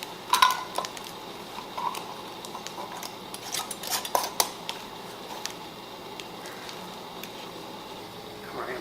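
Metal lids being screwed finger-tight onto glass canning jars of Sungold tomato thyme preserves, giving light scattered clinks and scrapes of metal on glass at close range, with no talking.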